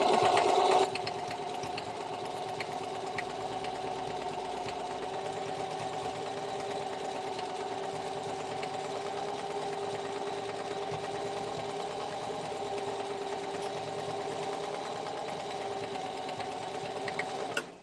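A sewing machine runs continuously at a steady speed, giving an even, close mechanical whir with no talking over it.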